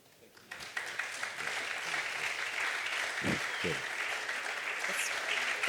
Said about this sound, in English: another round of applause because if it, 40 years of reggae music, what David did for us